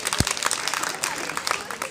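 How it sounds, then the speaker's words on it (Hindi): A school quiz audience claps to reward a correct answer, a dense burst of hand claps filling the two seconds at steady loudness with no talking over it. "ताली बजाओ एक बार इनके लिए"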